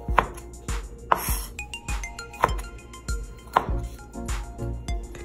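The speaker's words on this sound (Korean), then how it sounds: "소시지는 어슷 썰는데 최대한 얇게" Sausage being sliced thinly on the diagonal with a knife: crisp, regular board knocks roughly every half second, close and distinct, with faint ringing clinks between the cuts and no voices.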